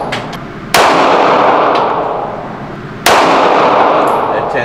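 Two loud, close gunshots from a Glock 45 MOS pistol at an indoor range, each a sharp crack followed by a long booming reverberant tail, spaced a couple of seconds apart.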